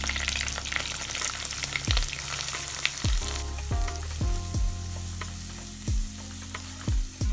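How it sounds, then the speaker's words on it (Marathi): Green chili and onion fry in hot oil for egg bhurji, a steady hiss and sizzle with several sharp stirring scrapes and clinks of a utensil against the pan at irregular intervals, close and moderately quiet. "इथे आपण तेल टाकून घेऊया। आपण इथे मिरची टाकूया। कांदा टाकूया।"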